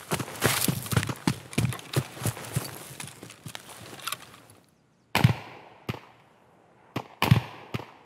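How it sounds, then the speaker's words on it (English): Gunfire in the Escape from Tarkov video game: a rapid string of sharp, distant-sounding shots, a brief pause, then several more isolated cracks. "They're shooting over on that hill."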